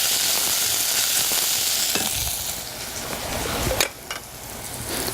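Tomatoes and onions frying together in a pan, a steady close sizzle and crackle throughout with a few stirring scrapes, easing slightly toward the end.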